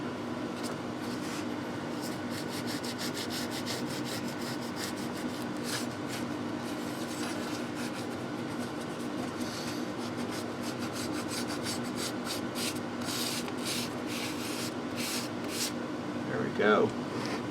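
A fine-grit file rasps across plastic burrs in steady, repeated close strokes with a dry scraping texture, while a person talks quietly throughout.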